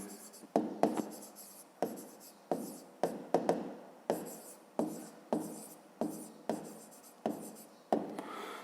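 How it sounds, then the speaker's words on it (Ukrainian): Pen or pencil scratching out an answer to a fifth-grade maths exercise on paper, close and clear in quick bursts of strokes with short pauses, steady and rhythmic, with no talking over it. "Ну, а тепер записуємо відповідь."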